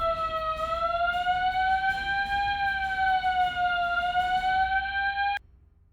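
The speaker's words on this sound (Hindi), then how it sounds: "पूरे घर में सेंट्रल अलार्म सिस्टम लगा रखा है।" A loud electronic central home alarm system wails in a steady, slowly wavering tone for several seconds, then cuts off abruptly, leaving quiet.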